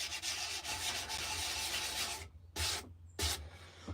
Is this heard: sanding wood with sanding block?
yes